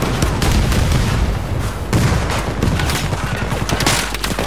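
Rapid bursts of Battlefield 2042 video game gunfire crackle and boom in dense volleys, loud and close, with brief lulls between flurries.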